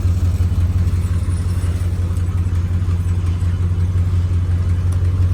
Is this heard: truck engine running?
yes